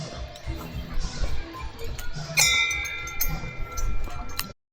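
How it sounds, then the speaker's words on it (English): A bell is rung at the lap point of a backyard ultra race, with a few bright, ringing strikes that hang and decay over outdoor noise and movement. "Ring the bell."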